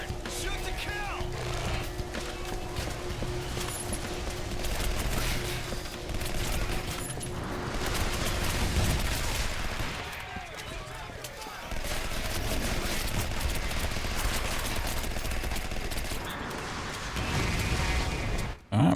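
Video game gunfire crackles in dense, continuous bursts for a long stretch, with a brief lull midway and a loud hit at the very end, layered over steady background game sound.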